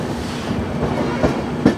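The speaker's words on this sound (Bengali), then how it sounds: "আমাদের ট্রেন এখন পার হচ্ছে ফারাক্কা জংশন রেলওয়ে স্টেশন" The Balurghat–SMVT Bengaluru express runs through Farakka Junction station without stopping, heard from on board as a steady rumble with rhythmic clickety-clack of wheels over rail joints.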